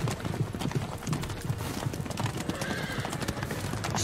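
Horse hooves clip-clop steadily with a neigh partway through in the hidden-object game Immortal Love 7: Stone Beauty, moderately loud, with no clear talking over it.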